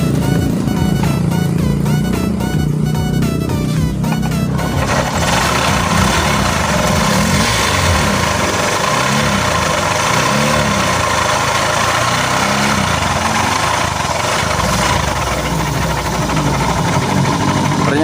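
A Honda Beat scooter engine with a rough-running fault idles close by, a loud, uneven chugging with knocking irregularities, and a sharp rattly patch in the first few seconds.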